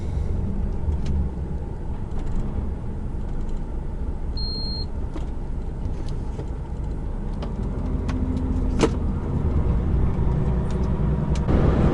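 A car accelerates onto a motorway near Barcelona, its engine and road roar a loud, steady drone heard from inside the cabin, rising slightly in intensity over the stretch.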